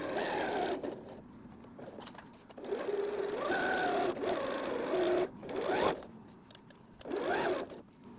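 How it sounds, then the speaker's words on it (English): A sewing machine stitches around the edges of a zippy travel bag, running in close bursts of rapid mechanical whirring with short pauses between runs. "We're sewing around the whole thing, making sure that we pivot at the corners with the needle down."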